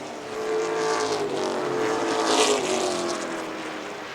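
Pro stock race cars running wheel to wheel on an oval track, their engines roaring loud and close, swelling as they pass and then easing off, with no voices.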